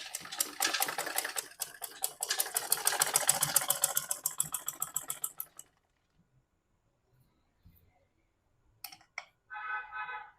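A sewing machine stitches fabric for a gown in a rapid, steady run of needle clatter for several seconds, then stops, followed by a quiet pause and a few brief clicks and a short buzz near the end.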